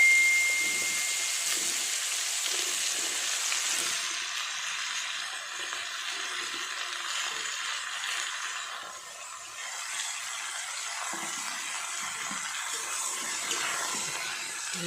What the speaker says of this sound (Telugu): ఆయిల్ వేడెక్కాక ముందుగా కట్ చేసుకున్న ఈ మష్రూమ్ ముక్కలను వేసేసుకొని లైట్గా